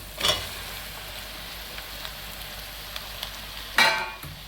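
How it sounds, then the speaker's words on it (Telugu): Potato pieces for aloo kurma are tipped into a pan of frying food. A soft, steady fry runs under two sharp bursts of sizzle, one near the start and one near the end, with faint scattered crackles between them. "ఇప్పుడు దీంట్లో మనం ఆలు ముక్కలు పోసేసుకుందాం"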